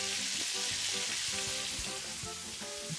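Peppers, celery and onion sizzle loudly in a pan for jambalaya, a dense continuous hiss of frying with scraping and clinks of stirring, close up and steady throughout, no voices.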